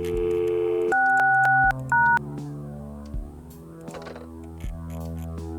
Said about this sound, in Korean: 조건을 달성하고 전화를 걸자고?